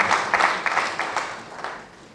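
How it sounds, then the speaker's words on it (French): Applause from a ceremony audience greets Monsieur Talibouya Fall at an honorary diploma presentation for teachers, a steady mass of clapping that swells and fades over two seconds with a faint voice underneath. "Maxime d'applaudissement pour Monsieur Talibouya Fall."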